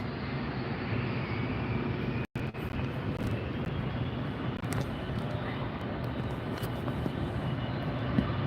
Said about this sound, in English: got a departure going out first